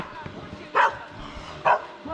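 A dog gives two sharp, fairly close barks about a second apart during a winter motorcycle outing, with faint background noise between them.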